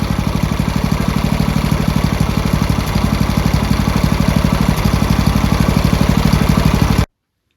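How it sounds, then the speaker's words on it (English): A motorcycle engine idles steadily and loudly with a rapid, even low-pitched putter. It runs for about seven seconds, then cuts off abruptly into silence. "it is running nicely on tickover, which is good"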